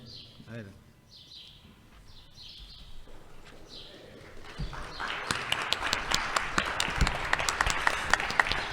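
An audience breaks into applause at a cultural event, the clapping swelling from about halfway through into a dense, steady burst of many hands. A voice speaks over the quieter opening, with birdlike chirps early on.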